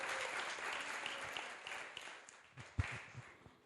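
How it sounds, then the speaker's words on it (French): Audience applause at a faith talk, a steady broad patter of many hands that thins toward the end, with a few louder nearby claps and faint voices underneath. "Et on peut l'applaudir aussi."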